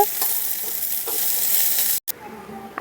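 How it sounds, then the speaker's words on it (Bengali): Capsicum sizzling and being stirred in a covered pan with little oil for a mixed vegetable paneer dish, a steady close hiss broken by spatula scrapes, cutting out briefly near the end. "আর ভেজে নেব ক্যাপসিকাম।"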